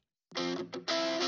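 Cleaner electric guitar layer playing alongside another similar guitar part, two bright sustained strums with a brief gap between, fairly loud and alone.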